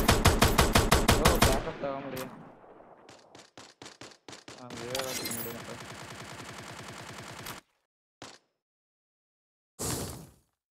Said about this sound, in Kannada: ಏನು ಬ್ರೋ ಈ ಗನ್ ಸೌಂಡ್ಗಳು